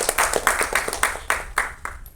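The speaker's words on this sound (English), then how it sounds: "Once more, round of applause to Suren for being our inspiration." Audience clapping at a trailer launch event, a round of applause with distinct, fairly rhythmic hand claps close by that gradually thin out over about two seconds.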